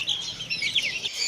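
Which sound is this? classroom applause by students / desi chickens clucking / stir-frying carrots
desi chickens clucking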